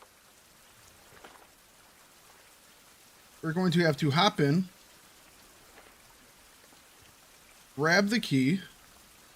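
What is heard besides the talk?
rain in a video game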